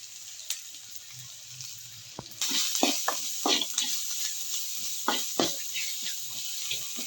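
Ginger paste is stirred into a hot pan of frying onions and green chillies for a Telugu fish curry; a soft sizzle jumps louder partway through, with repeated scraping stirs over the steady hiss.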